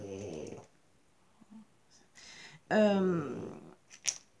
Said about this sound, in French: Vous entendez ronfler, il ronfle bien.